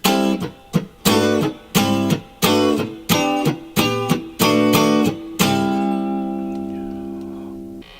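A cheap copy of a Rickenbacker 325 electric guitar, all three pickups on, strums a series of crisp, evenly spaced chords, then lets a final chord ring out and slowly fade.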